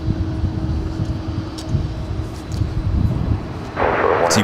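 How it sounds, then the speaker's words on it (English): A UPS Boeing 767-300ER cargo jet at Dallas-Fort Worth airport rumbles with a steady, moderately loud engine roar that swells near the end. "UPS flight 2954, 767-300ER, just 23 years of age"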